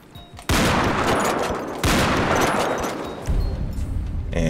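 Heavy Sniper MK2 shots in GTA 5 with a realistic gun sound mod: three loud, booming blasts, each with a long rolling echo tail, fired a second or so apart.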